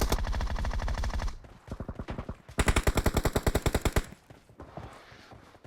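Video game gunfire: bursts of rapid automatic shots, loud and close, in two long volleys separated by a brief lull.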